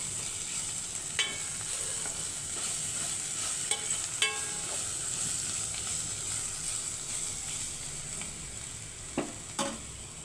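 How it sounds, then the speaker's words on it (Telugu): Onions fry with ginger garlic paste in a pan for an egg curry, giving a continuous soft sizzle broken by a few sharp utensil clinks and stirring scrapes. "ఉల్లిపాయ వేగిపోయిందండి. అల్లం వెల్లుల్లి పేస్ట్ వేస్తున్నాను."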